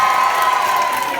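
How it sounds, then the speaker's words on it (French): A school audience at a Purim show in Paris bursts into loud, dense applause and cheering that holds steadily throughout, filling the hall without a break. "On applaudit très fort Maxime Guény"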